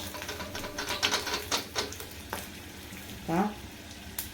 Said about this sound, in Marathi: छान ब्राऊन रंग येईपर्यंत यांना तेलात आपल्याला फ्राय होऊ द्यायच्या आहेत.